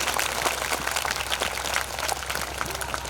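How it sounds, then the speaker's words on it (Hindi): Applause from an audience at a meditation camp, a steady dense wash of clapping held at an even level throughout, with no voices over it. "मंजूर है तो जोरदार ताली मिलेगी"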